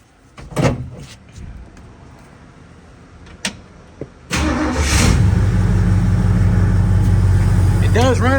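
A 1964 Ford Fairlane, bought cheap with a bad transmission, is started after a few clicks and thumps, then its engine catches and settles into a loud, steady idle close by.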